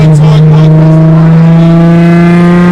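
Nissan 350Z with a loud aftermarket exhaust idling close by, a very loud, steady droning engine tone with strong harmonic hum and slight wavering, with people talking over it.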